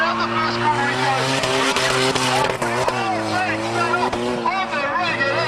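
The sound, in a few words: drift car skidding around the first corner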